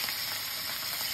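Fish frying in a pan with oil, a steady close sizzle and crackle that runs dense and continuous without pause throughout.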